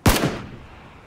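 A single loud, sharp gunshot from the player's weapon in PlayerUnknown's Battlegrounds, with a short decaying echo trailing off.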